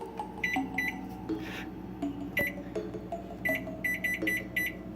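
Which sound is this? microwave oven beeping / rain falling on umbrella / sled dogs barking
microwave oven beeping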